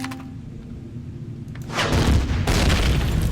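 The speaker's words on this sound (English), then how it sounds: "secondary explosion, got it." A loud explosion bursts out mid-clip in the sci-fi survival game Empyrion Galactic Survival during a radar station attack, a sudden broadband boom after a quieter rumbling stretch, followed by a second blast and sustained crackling debris.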